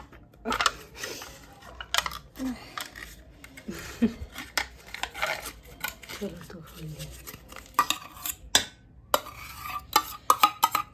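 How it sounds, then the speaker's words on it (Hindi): Yogurt gets mixed into refined soybean oil in a bowl, with a spoon scraping and clinking repeatedly against the sides in an irregular rhythm, close and clear, while a voice talks faintly in places. "हमने डाल दिया अब दही। हम करेंगे अब इसको मिक्स।"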